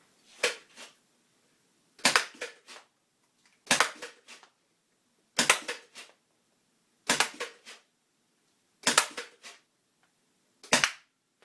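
Nerf blaster fired seven times at a steady rhythm about every one and a half seconds, each shot a sharp close snap followed by a brief rattling trail, with silence in between.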